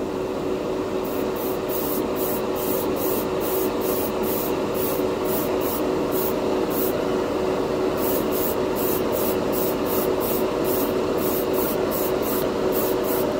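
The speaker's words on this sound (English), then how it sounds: "It's like spraying it over primer." Steady, continuous airbrush hiss spraying clear candy paint over a tan base coat, with a faint rhythmic pulsing in the high hiss, close and loud with no voices.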